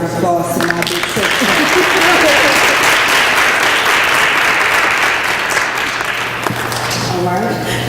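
Loud, sustained applause from a crowd at a Delta sorority Founders Day celebration honoring a big sister, steady for several seconds with voices and cheering rising briefly at the start and end.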